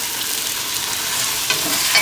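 Onions and meat frying in a pan for a celery stew, a steady close sizzle with faint stirring scrapes and no voices.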